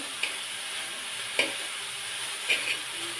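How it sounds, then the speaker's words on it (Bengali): Thankuni (Centella) leaves being stirred and fried in a pan: a soft, steady sizzle with a few sharp scrapes of the spatula against the metal, no voices. "এইভাবে নেড়ে চেড়ে ভাজিটা করে নেবেন"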